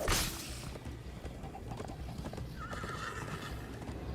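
A horse's hooves clop rapidly at a gallop in Minecraft: Story Mode, joined by a high whinny near the end, with a steady background hum throughout.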